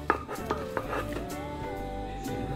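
Coriander bhorta being ground into a fine paste, with a few sharp knocks and scraping contacts over a steady low kitchen hum and faint background music.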